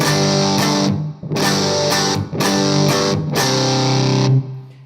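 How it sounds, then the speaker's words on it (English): Fuzzy, distorted electric guitar through a Spaceman Nebula fuzz pedal on its scooped-mids setting strums a series of sustained chords with a hollow, mid-scooped tone, played steadily with brief gaps between them. "scooped mids sounds like this."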